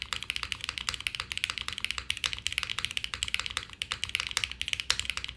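Steady, fairly fast typing on a Jris 80 TKL mechanical keyboard, producing dense overlapping key clacks close up with no voices.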